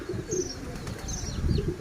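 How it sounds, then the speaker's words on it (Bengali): Pigeons coo softly in a village courtyard, a few low rounded calls repeating under general outdoor ambience, with faint higher bird chirps overhead. "এই যে কবুতর দেখেছেন"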